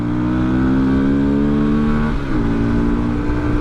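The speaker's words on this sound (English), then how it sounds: "It's a road live with traffic." Steady traffic on the Himalayan Expressway, a continuous loud drone of engines with a tonal hum that shifts slightly midway as a vehicle passes close by.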